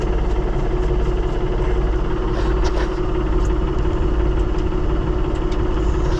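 A Minneapolis Moline Jetstar 3 tractor engine idles close by with a steady, loud, low rumbling drone and constant vibration, and no voices over it.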